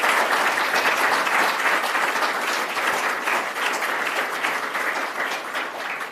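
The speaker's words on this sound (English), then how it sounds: "So I think they deserve a massive round of applause for what they have done." Audience applause at a National Maritime Museum anniversary event in Greenwich, steady dense clapping from a crowd filling the whole stretch at an even level without a break.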